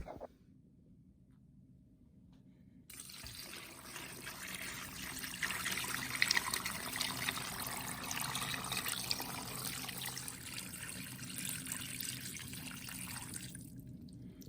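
After a few seconds of low hum, water begins pouring steadily into a large stock pot of bones for brown stock, a continuous rushing splash that keeps going to the end.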